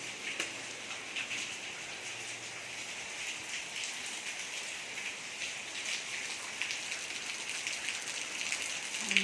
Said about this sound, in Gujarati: વરસાદ બંધ રહેતો જ નથી